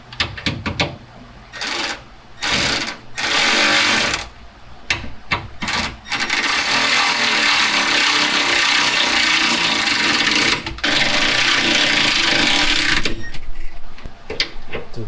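A power tool tightens a rear sway bar bushing bolt on a Honda Accord. Several short whirring bursts are followed by a long, loud, sustained run and then a few more bursts.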